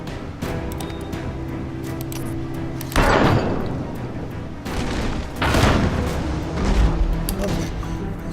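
Heavy booming shots from a ship's cannon in the naval video game Abandon Ship, firing in repeated blasts, with the booms landing around three and five and a half seconds over a low steady game background.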